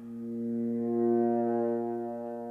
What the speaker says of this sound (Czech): Ten hlas a troubení pronikly do všech koutů Gulámovy země